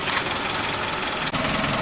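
Tracker car engine idling after a coolant refill, a steady broadband rumble with a faint knocking texture, close and continuous, with a brief dip near the end.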